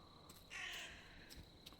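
Crows caw in the Cursed Forest video game, one harsh raspy call and a few softer ones, faint and distant over a quiet ambient background.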